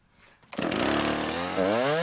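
A chainsaw on a forest farm starts up after a quiet moment and roars loud and close as it cuts wood. The engine pitch climbs near the end.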